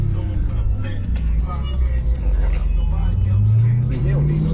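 A 2025 Dodge Hellcat Durango with a 710 HP engine driving, its low engine drone steady and loud from inside the cabin, with the pitch rising as it accelerates near the end.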